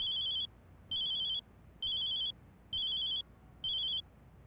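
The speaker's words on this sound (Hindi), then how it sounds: "किसका फोन है?" A telephone rings in five even electronic bursts with short gaps between them. The ringtone is loud and bright, with no talk over it.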